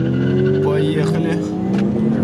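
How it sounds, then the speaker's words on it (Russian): A 16-valve VAZ 2109 race car engine screams at sustained high revs against the rev limiter, a loud, steady drone with stuttering texture, heard from inside the car during a road race. "Забыл переключиться. В отсечку немного уперлись."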